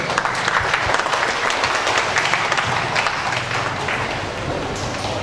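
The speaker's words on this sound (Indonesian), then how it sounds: "Tepuk tangan buat Tombronegoro." A crowd applauds at a community declaration and inauguration ceremony, steady, dense clapping filling the space for several seconds without pause, loud and close.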